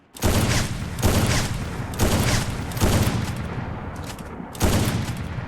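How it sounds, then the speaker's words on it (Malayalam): Sniper rifle shots ring out in a video game, five loud, evenly spaced booming reports each followed by a decaying tail, close and alone without talk. "അപ്പോൾ നമുക്ക് അടിക്കാൻ കാണിച്ചു തരാം."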